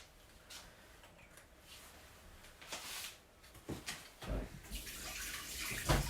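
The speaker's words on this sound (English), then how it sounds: "So, rinse that off." Running tap water rinses something off while salmon maki sushi is being made, with uneven splashing that swells louder in the second half, close and without speech.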